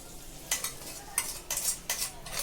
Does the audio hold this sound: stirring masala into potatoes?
yes